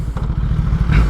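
Kawasaki ZX10R sport motorcycle engine idling, a loud close rapid low-pitched pulsing with a faint mechanical clatter, steady throughout and with no voices.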